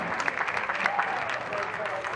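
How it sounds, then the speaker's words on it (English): Spectators clap at a men's college soccer pre-season game, a scattered patter of hands at moderate distance, heard under a voice talking over it. "Nice applause for everybody for the first 20 minutes of soccer so far."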